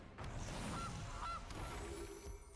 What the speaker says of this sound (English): Bring on a goose. Honk.